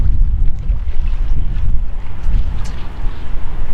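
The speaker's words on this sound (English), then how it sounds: "a bit windy as well" Steady, loud wind buffeting the microphone at Farnham Great Pond in winter, a continuous low rumbling roar with no voices.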